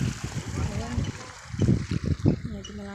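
Water runs steadily through a small stream beside rice fields, a continuous trickling wash heard close by while someone talks over it.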